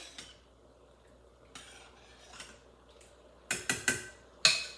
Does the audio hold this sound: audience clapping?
no